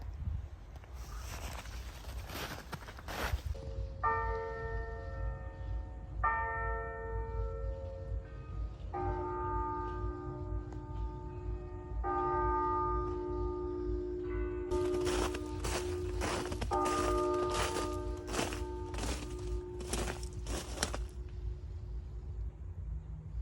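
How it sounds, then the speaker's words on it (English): Church bells ring at nine o'clock in the old city of Kalisz, Poland, several tones overlapping in a sustained, layered peal that builds over a low street rumble of passing traffic and footsteps. "Those were the church bells."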